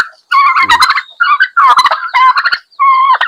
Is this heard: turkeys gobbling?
yes